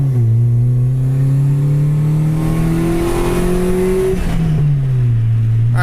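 A turbocharged Honda Civic with a D16 engine revs loud and close, its pitch climbing steadily over several seconds, then dropping back toward idle near the end.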